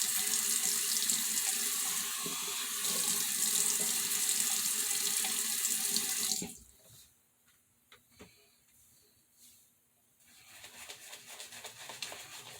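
Tap water runs steadily into a sink for about six seconds to wet the face before a shave, then cuts off, leaving soft splashes and dripping before the water sound returns near the end.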